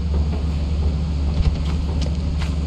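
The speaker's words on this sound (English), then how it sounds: "Sounds windy." Steady wind blowing through a Lethal Company game level, a broad continuous rush with low rumble and gusty swells, loud and close with no talk over it.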